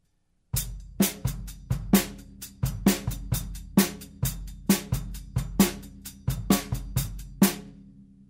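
Rock pattern played on a drum set: punchy bass drum and snare hits alternating in a steady, driving beat with bright cymbal strokes, recorded close and alone without any talking.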